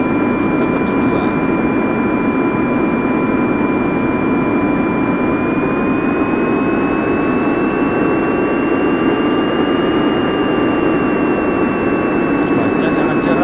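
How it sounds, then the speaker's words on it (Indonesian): An airplane taking off, a continuous loud jet engine roar with a steady rising whine held throughout, close and unbroken, with brief faint clicks at the start and end. "Pesawat sudah lepas landas, siap menuju kota tujuan."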